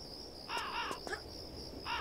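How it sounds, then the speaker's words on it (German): A crow in the Tomb Raider video game caws twice in quick succession, followed by a couple of sharp clicks and then one more caw, all set against a constant high ambient tone. "Ich höre dich doch rumkrähen."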